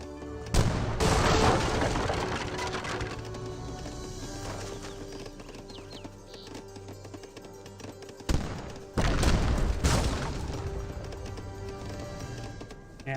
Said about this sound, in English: He's bringing the heavy artillery.